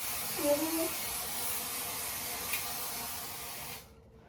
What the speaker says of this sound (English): I really make sure I hairspray down